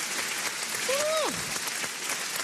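A concert crowd applauds and cheers with steady, dense clapping. Partway through, a sharp rising and falling whistle cuts over the clapping.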